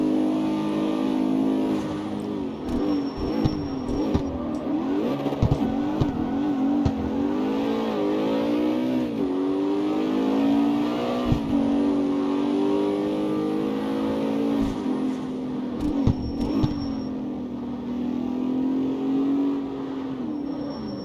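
Engine of a Mustang in the CarX Street racing game, revving loudly and continuously through a C4-class race, rising and falling in pitch with gear changes and acceleration, with no talk over it.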